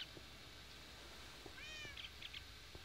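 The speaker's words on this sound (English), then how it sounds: "Scram, cat, scram." A cat meows with a short rising, wavering call and a few brief follow-up chirps, faint against steady indoor background hiss, with no speech.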